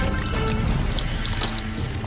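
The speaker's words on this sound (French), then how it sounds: "Versez de l'eau." Water poured into a frying pan holding lightly fried beans while cooking, a steady continuous pour and trickle lasting a couple of seconds, close and fairly loud with no talk.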